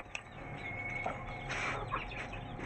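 A hen clucking softly among week-old chicks while being fed scraps, faint and somewhat distant, with a few brief chirps and short cackles over quiet background hum.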